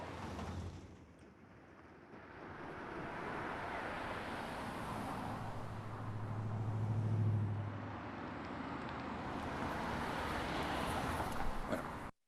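Car sounds in a film sound mix, a low, soft, continuous wash of passing traffic and engine rumble that swells briefly in the middle, kept quiet and distant.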